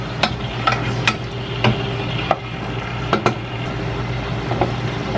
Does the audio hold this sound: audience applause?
no